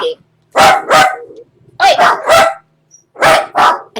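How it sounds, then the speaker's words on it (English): A dog barks loudly and close by in quick pairs of sharp barks, three bursts with short pauses between them, while a person calls out once. "Dogs."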